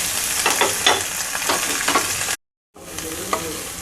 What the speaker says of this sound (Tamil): நல்லா வதக்கிடணும். இன்னும் கொஞ்சம் வதங்கணும்.